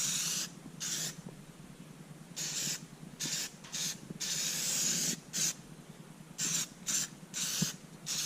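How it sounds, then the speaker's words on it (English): Short hissing bursts from a spray can of weld-through primer applied to bare sanded metal on a Ford Bronco, several separate sprays of uneven length with brief pauses, close and moderately loud. "put a little weld through primer on this bare metal just to protect it a little bit"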